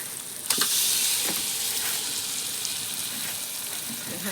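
Masala-coated prawns hit a hot pan for prawn biryani, with a sharp sizzle at the start and steady frying hiss after it, plus a few stirring scrapes.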